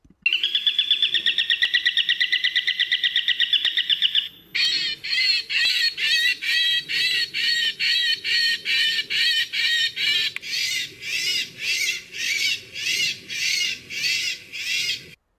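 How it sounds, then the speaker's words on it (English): A loud, harsh bird distress squawk plays continuously from a bird-chasing drone, then gives way to a rhythmic series of sharp, repeated falcon and hawk hunting calls, played back electronically. "the hunting calls of falcons and hawks being played, as well as the distress calls of birds"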